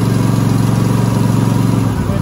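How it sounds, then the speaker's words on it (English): Cub Cadet XT2 lawn tractor engine started and running steadily, a loud continuous low rumble with even throbbing and no pauses, close to the listener. "I'm gonna crank it up."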